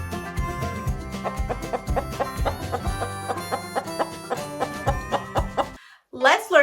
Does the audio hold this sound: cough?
no